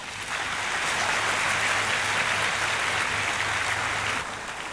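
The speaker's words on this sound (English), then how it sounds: "Another round of applause for Mr. Johnson." A graduation audience breaks into dense, steady applause after a speech, a loud, even wash of many hands clapping that holds for several seconds and then tapers off.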